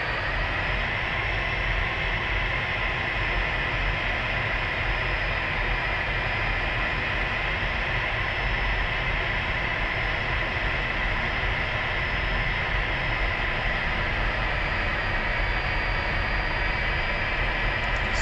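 Steady, droning jet engines of military aircraft taxiing as a group in the DCS flight simulator game, a constant loud whine and rumble that holds unchanged throughout with no voices.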